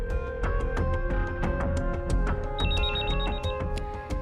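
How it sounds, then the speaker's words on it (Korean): An old-style telephone bell rings in steady repeated bursts, loud and close, alone with no talking over it. "이 씨는 핸드폰에 남아있던 발신 번호로 전화를 걸었지만"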